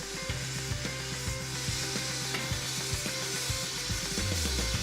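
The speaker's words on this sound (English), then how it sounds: "A torch is used to melt the gold." A gas torch roars steadily as gold and borax melt in a ceramic crucible, a continuous broadband hiss with faint crackling and scraping underneath, close and moderately loud throughout.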